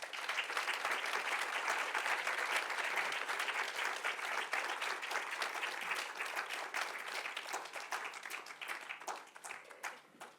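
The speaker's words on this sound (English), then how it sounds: "Let's give him another round of applause." An audience at a humanitarian conference keynote applauds in a dense, sustained wash of clapping that holds steady for about ten seconds before thinning slightly at the end.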